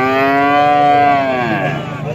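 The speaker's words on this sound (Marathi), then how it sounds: "गाई पाहू शकता आपण" A cow at a busy cattle market lets out one long, loud, drawn-out moo that fades slightly toward the end, heard close up with no talking over it.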